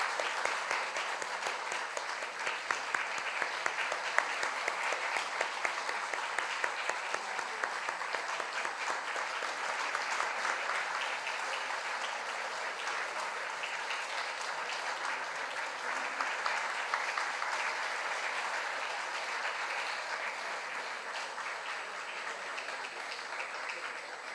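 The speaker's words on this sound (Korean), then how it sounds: "우리 다시 한번 우리 박수로 우리 감사와 또 인사드리겠습니다" Congregation applause at a church ceremony for installing a senior pastor emeritus and a new head pastor, a long, even, moderately distant clapping wash that holds steady throughout.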